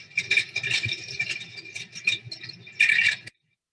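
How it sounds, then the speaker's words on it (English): Dense mechanical clattering and rattling, fast and continuous with metallic chatter, pausing briefly before a final burst, then stopping abruptly. "That's the sound of the linotype."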